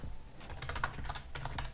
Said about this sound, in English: I don't know what I'm typing, but I'm typing something